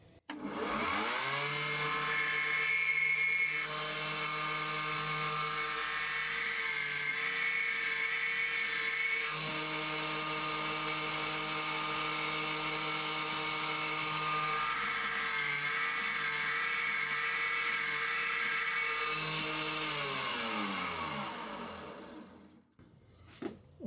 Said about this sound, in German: Und schon habe ich perfekt einen Bohrer angeschliffen.